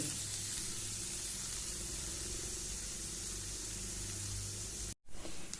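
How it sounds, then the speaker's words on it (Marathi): Horse gram roasting in a pan over a low gas flame gives a steady, even sizzling hiss throughout, broken by a brief gap near the end. "आनी बारीकूच गॅसीर भाजा, मागीर टेस्ट बरी येता रोसा."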